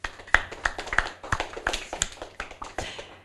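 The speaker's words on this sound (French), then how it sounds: "On applaudit Sébastien" A small audience claps for a child's book presentation, sharp, distinct hand claps in a loose, uneven rhythm, close and fairly loud, with no voices over them.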